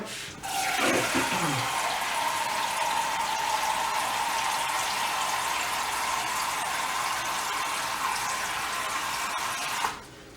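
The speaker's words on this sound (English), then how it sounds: "this is gonna be 4 cups that I'm pouring in" Liquid, about four cups at a time, pours steadily into a soup pot for chicken noodle soup, a loud continuous rushing stream lasting roughly nine seconds before stopping abruptly.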